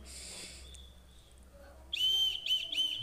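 Small plastic toy whistle from a free-gift pouch, blown close up in a couple of short shrill, warbling bursts near the end after a faint brief tone earlier.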